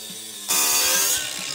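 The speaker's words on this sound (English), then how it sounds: "I'm going to give this a nice surfacing." Hand resurfacing of a part on a remote-control go-kart build, a short quiet lead-in then a dense raspy scraping stroke that holds for about a second before easing off, close and fairly loud.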